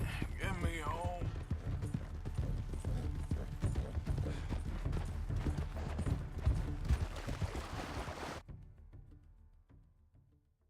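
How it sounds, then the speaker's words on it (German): In Red Dead Redemption 2, a horse's hooves clip-clop in a steady, quick trotting rhythm, fairly close and continuous, with someone talking over them before the sound cuts off abruptly near the end. "Komm, mein braves Pferdchen, bring mich nach Hause."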